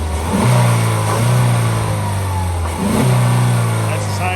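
Engine of a 2012 Ford Focus SEL hatchback revved twice while parked, each rev rising sharply then falling back to idle, close and loud.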